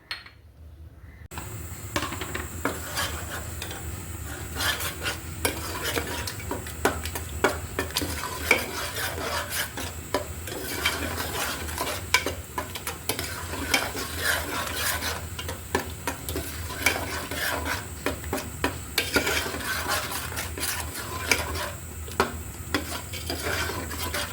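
Spice paste for an egg biryani is stirred and fried in a pan, a continuous sizzle with repeated scraping strokes of a spoon against the metal, close and steady for over twenty seconds with no talking.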